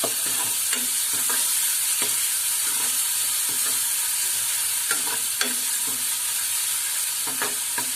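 Chopped onion frying in a pan for a Malvani black peas curry, a steady loud sizzle with repeated scraping knocks of a spoon stirring at irregular intervals, close up and without talk.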